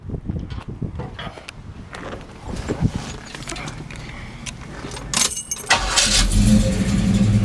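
A 1969 Chevrolet Chevelle Sport Coupe with HEI ignition is fired up after some clicks and clatter, then settles into a loud, steady low rumble.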